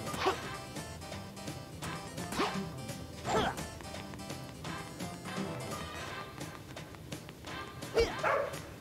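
A dog barks a few times in Sonic the Hedgehog (2006), set against busy game music and sound effects, with louder bursts near the start, middle and end.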